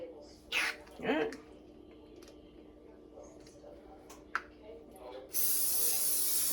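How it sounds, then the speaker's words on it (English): A few short hissing bursts of cooking spray aimed at a waffle maker, fairly close, followed by a long steady hiss at the end, with soft clicks and quiet background sounds between. "Spray down that waffle maker again"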